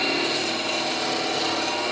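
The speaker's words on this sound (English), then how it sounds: "You're essentially drilling a wood that's half resin" A drill bores into stabilized wood, half resin and half wood, spinning on a lathe, giving a continuous, loud, even grinding rasp with no pauses.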